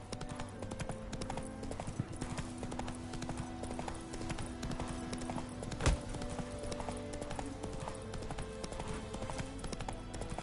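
Roach, the horse in The Witcher 3, gallops with a fast continuous clip-clop of hooves, close and steady, over faint game ambience.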